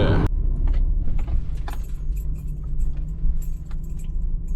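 A car drives up and pulls in to park for an Amazon Flex delivery shift in the US, its engine a steady low rumble close by, with brief jingling and rattling near the start.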